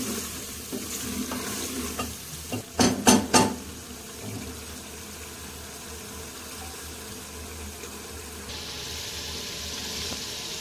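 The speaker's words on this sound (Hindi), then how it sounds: "आधा कप तेल का डाल के अब इसकी हमें भुनाई करनी है 5 मिनट के लिए।" Beef karahi frying in half a cup of oil, a continuous close sizzle with a short cluster of loud stirring scrapes and clatters near the start, then settling back into steady frying hiss.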